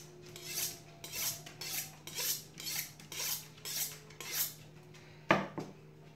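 Hinkle kitchen knife blade stroked repeatedly along a honing steel at a 22-degree angle, about eight rhythmic metallic swipes, close and clear, followed by a sharper final scrape.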